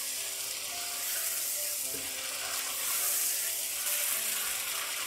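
Fried chicken pieces stirred into a pan of ready masala, a steady broadband sizzle with a few soft scraping knocks, fairly quiet and continuous with no voices.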